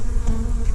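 Honey bees buzz on a beehive frame, a close, steady droning hum with no one talking.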